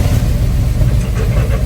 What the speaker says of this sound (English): We're going to start up our Chevy K10.